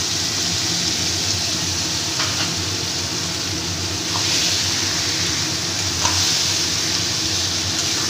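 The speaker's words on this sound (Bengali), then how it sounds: "মশলাটা ভালো মতো কষানো হয়ে গেছে, এবার আমি এই যে ম্যারিনেট করা মাংসটা দিয়ে দিচ্ছি।" Loud, close sizzling as marinated mutton goes into spiced masala in a hot pan, a dense continuous fry with occasional clinks and scrapes of a utensil.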